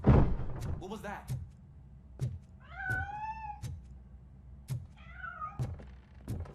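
A cat meows twice in the video game RoboCop: Rogue City. Each meow is drawn out and wavering, and both are set among regular sharp clicks and dull thumps over a low ambient hum.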